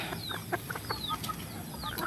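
A flock of free-range kampung chickens on a traditional farm gives scattered clucks and short calls, a few birds at middle distance with no talking, over a steady hissing background.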